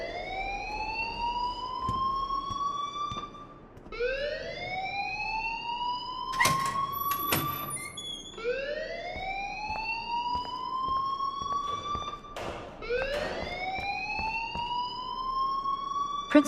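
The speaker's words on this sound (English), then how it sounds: "please turn off that alarm since that's your job" A school fire alarm in the video game Life Is Strange, a loud rising electronic wail that repeats in long sweeping cycles, broken by a few sharp clanks, with no talk.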